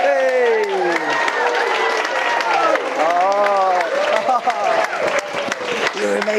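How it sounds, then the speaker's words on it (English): Wedding guests clap and cheer for flower girls Maeve and Reva, loud applause mixed with excited voices and shouts close by. "Can we have a round of applause for Maeve and Reva?"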